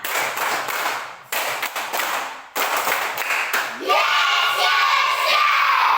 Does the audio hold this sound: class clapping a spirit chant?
yes